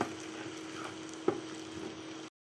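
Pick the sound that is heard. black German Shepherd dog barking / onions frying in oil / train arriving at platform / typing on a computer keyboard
onions frying in oil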